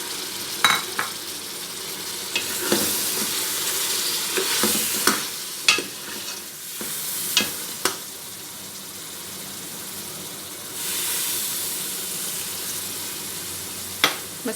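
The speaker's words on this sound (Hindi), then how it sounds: "मसाले को भी कुछ देर भून लेते हैं ताकि ऑयल रिलीज़ हो जाए।" Spice masala for a mutton and cauliflower curry sizzles in hot oil in a pan, with a soft, continuous crackle broken by repeated scraping and clinking as a spoon stirs, up close and with no talk.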